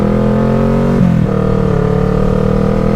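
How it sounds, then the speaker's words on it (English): A motorcycle engine hums steadily while riding on an early morning ride, its tone dipping briefly as the rider shifts before settling back into an even, close, loud drone. "I love just the sound of the motorcycle"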